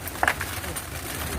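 Pigeons at a feed tray scattered with grain give a brief, soft coo that is quickly over, set against steady outdoor background noise.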